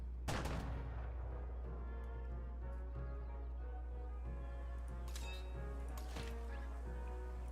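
Ranged units in Civilization 7 firing on a town, with repeated sharp gunfire bursts over a steady low hum and scattered impacts, moderately loud, no talking.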